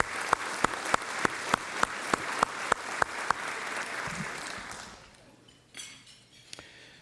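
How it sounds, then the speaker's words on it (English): An audience at a business awards event applauds for a few seconds, clapping fading away, with a regular sharp clinking of glass tapping through the start and a quieter room afterward. "So a big round of applause for our chairman circle."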